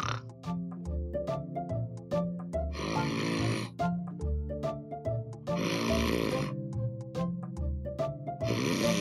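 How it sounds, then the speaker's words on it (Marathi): A person snoring loudly while asleep, with deep rasping, grunting breaths repeated in a slow rhythm close by. Tonal music plays underneath. "तू घोरतेस अगं."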